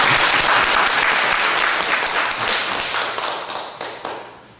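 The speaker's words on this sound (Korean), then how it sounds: "박수 한번 쳐야 됩니다." A Korean audience claps heavily at a church gathering, loud dense applause at first that thins out and fades into scattered claps toward the end.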